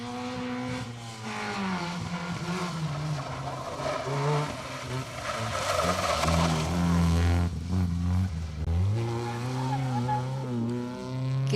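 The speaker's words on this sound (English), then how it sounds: "David Ginn and Lucy Gutteridge in their Nissan Micra" Nissan Micra rally car driving a stage at the Rali Menai Stages, its engine revving loud and near with rising and falling pitch through gear changes, continuous throughout.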